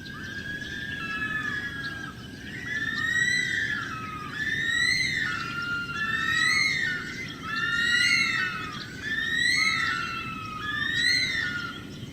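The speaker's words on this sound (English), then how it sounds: "Let's find a bush stone curlew." Recorded calls of a bush stone-curlew play back as a series of loud, eerie, wailing rising whistles, repeated in rhythmic rounds about every second or two over a steady background hiss.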